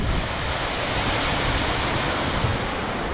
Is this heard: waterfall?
yes